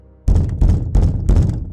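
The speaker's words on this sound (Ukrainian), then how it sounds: "Хтось постукав у двері глухий, повільний стукіт." Four slow, dull knocks on a wooden door, evenly spaced and close, each a heavy thud with a short ring-out, loud against a quiet room.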